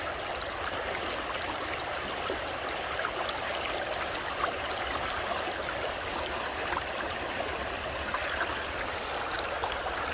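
Water pours and splashes steadily into a container, a continuous close rushing wash that holds even for about ten seconds without pauses or talk.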